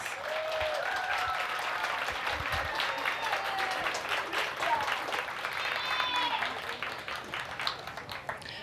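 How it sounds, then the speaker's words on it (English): An audience at a county fair pageant applauds the young contestants, a sustained wash of clapping with scattered whoops and voices, tapering slightly toward the end. "Y'all give them a round of applause."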